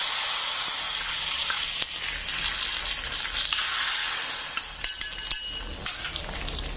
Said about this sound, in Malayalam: നമ്മുടെ കറിയിലേക്ക് ചേർത്ത് ഇളക്കിയിട്ട് കൊടുക്കുക.